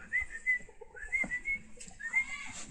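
A person whistles several short, sharp high notes in an uneven rhythm, imitating the signal that diablumas dancers gave to the musicians, with faint rustling and breathy background noise between the notes.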